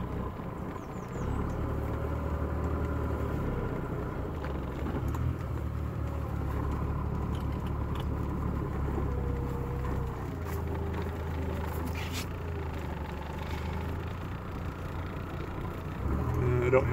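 A Maserati Biturbo 425i idles with a steady low engine rumble as it slowly rolls out backwards, with voices talking intermittently over the engine.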